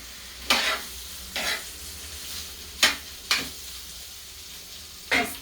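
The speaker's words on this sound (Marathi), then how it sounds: "असे बारीक गॅसवरती मी चांगल्या अशा कडकडीत बनवून घेणार आहे." Bitter gourd rounds fry crisp in a pan over a low gas flame: a soft, constant sizzle broken by about five sharp scraping stirs, unevenly spaced and close up.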